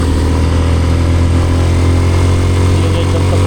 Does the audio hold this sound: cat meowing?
no